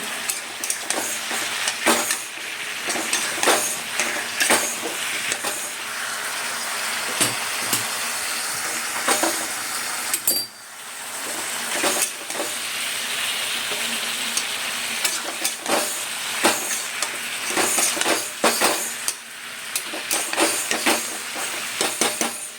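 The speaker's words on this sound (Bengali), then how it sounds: "নুন দিয়ে আবারও আমি নাড়বো।" Food sizzles and fries steadily in a pan after salt is added, with repeated scraping and clinking strokes of a spatula stirring it, close and continuous with no talk.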